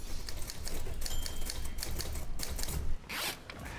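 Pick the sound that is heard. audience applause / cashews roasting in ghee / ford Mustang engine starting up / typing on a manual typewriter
typing on a manual typewriter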